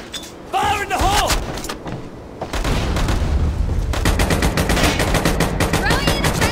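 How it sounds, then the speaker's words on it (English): Loud automatic gunfire with booming blasts fills a firefight in the online shooter Metro Conflict. The bursts are dense and nearly continuous, and a character's voice line cuts in briefly near the start. "Fire in the hole!"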